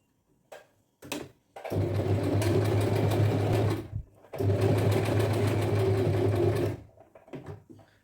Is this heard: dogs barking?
no